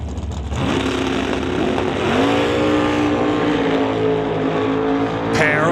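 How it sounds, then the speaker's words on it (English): At an NHRA Summit ET Series drag race, a Chevrolet Cavalier and a Nova launch together, engines roaring loud and rising in pitch as they accelerate hard down the strip, with a continuous heavy drone throughout. "As Otto Schulte brings up the still cruising Associated Tire Next Gen here in George Straight Line Collision Cavalier to race Devin Jansen's Nova."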